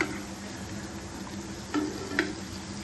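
Masal vadai deep-frying in hot oil, a steady low sizzle with a couple of brief clinks or bumps partway through, close and fairly quiet, no talking.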